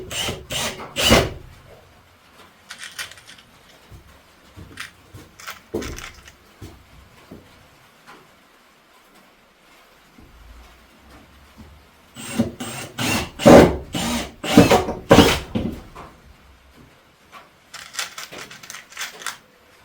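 Screws being driven to fasten something down in a home workshop, heard as bursts of buzzing power-driver and scraping wood noise, with quieter handling sounds and pauses between clusters, close and fairly loud.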